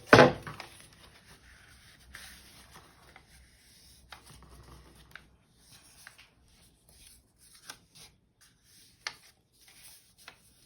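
Paper being scored for an Easter basket box, a few soft scraping and rubbing strokes after an initial sharp thump, with quiet taps and brushes scattered through, faint and close.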